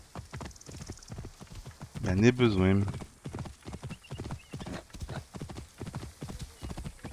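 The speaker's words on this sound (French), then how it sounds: "Il trace ce cheval." Galloping horse hooves in the video game Assassin's Creed Origins, a steady fast clip-clop rhythm running throughout, with a brief loud whinny partway and someone speaking French over the gameplay.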